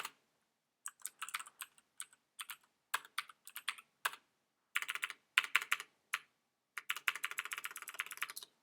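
Close, crisp clatter of typing on a computer keyboard, with short bursts of keystrokes separated by brief pauses and then a faster run near the end.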